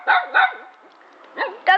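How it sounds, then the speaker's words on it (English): A dog yips in short, sharp barks close by: two quick barks, a pause, then two more, with no talking over them. "there's a dog."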